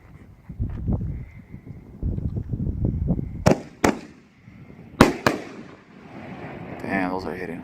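60g canister firework shells burst outdoors, with several sharp, loud booms arriving in pairs and crackling tails, mixed with earlier softer pops and rumbling. Voices can be heard faintly in the background.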